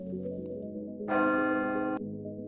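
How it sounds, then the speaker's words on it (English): A resonating bell sound effect rings out as a sustained, harmonically rich tone for about a second, then cuts off sharply over a low, droning background. "And as the bell resonates"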